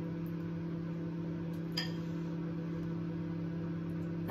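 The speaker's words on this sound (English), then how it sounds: "So I'll put them in the microwave." A microwave oven heating frozen raspberries hums steadily with a low electric drone, and a single light clink sounds briefly midway.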